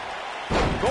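Crowd in a WWE 2K19 Royal Rumble match, the first half quiet, then a loud swelling roar with a rising cheer or whistle near the end.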